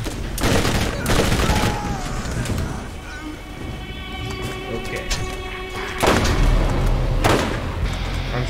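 Rapid gunfire crackles in the shooter game Borderlands, with loud bursts of automatic shots at the start and again near the end. Sustained electronic tones hum between the volleys.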